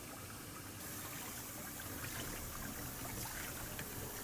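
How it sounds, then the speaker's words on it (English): A hand swirls soapy water in a sink while cleaning a Honeywell electronic air cleaner, giving a steady, close sloshing and trickling wash that stays continuous throughout with no talking. "put your hand into the water and stir it up until the soap is dissolved"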